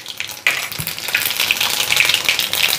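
Cumin seeds hit hot oil for a baby potato bhaji, bursting into a loud, close, steady sizzle with a sharp crackling onset and continuous spitting throughout.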